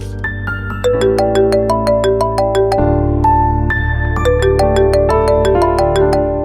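A phone plays a loud melodic ringtone for an incoming call, a bright repeating tune of plucked electronic notes over a sustained bass line.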